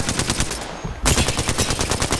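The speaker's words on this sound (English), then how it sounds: "Getting shot at." Rapid automatic gunfire in the video game Apex Legends rattles steadily throughout, loud and close, with dense regular shots that briefly thin out before resuming.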